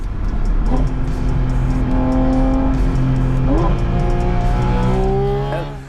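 A Porsche Spyder RS with a naturally aspirated engine and PDK gearbox accelerating hard, its close, loud engine note climbing through quick upshifts, with a voice speaking underneath.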